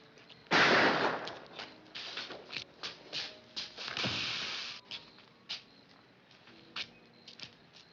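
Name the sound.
gunshots in a 1954 noir film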